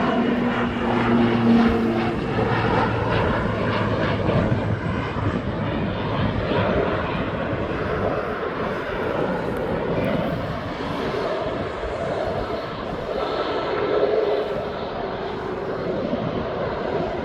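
Airliner landing at East Midlands Airport, a steady broad engine roar and rumble sustained throughout, moderately close and gradually shifting as the aircraft passes.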